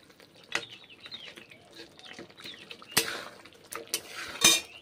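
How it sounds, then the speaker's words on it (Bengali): Mutton being stirred and browned in a pot, with intermittent clanks and scrapes of a utensil against the metal vessel over a quiet background, a few sharper knocks standing out near the end. "ভালো করে প্রথমে কষে নিচ্ছি, নেড়ে চেড়ে কষে নিচ্ছি"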